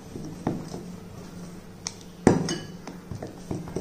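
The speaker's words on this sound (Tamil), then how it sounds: "இதை வந்து நல்லா மிக்ஸ் பண்ணிக்கிறணும்." Moong dal dosa batter being stirred in a bowl: a spoon scrapes and clinks against the bowl in a few sharp knocks, with soft wet stirring between, close and alone without talk.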